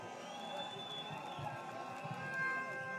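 A crowd at a political rally in Kabete cheers and claps, a steady, dense roar of applause and shouts filling the space with no single voice standing out.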